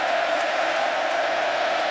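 A roaring stadium crowd at an LSU vs Texas A&M college football game, a loud continuous wash of cheering and yelling with no break.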